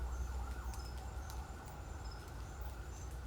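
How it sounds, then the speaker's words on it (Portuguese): Police car siren faint and distant, a thin wailing tone held over a steady low rumble of background noise, with no voices nearby. "Sirene da polícia, né?"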